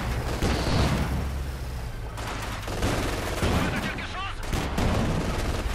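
Gunfire in the game Company of Heroes 2: dense, continuous bursts of rifle and machine-gun fire with booming impacts, loud and sustained across the clip, with a voice talking over it.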